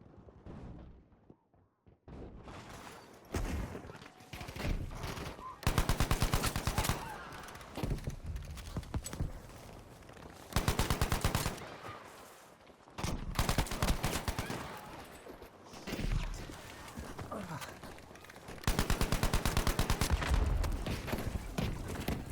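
Turner SMLE semi-automatic rifle fired in Battlefield 5, a run of loud, sharp shots in rapid bursts with pauses between, mixed with other close battlefield noise.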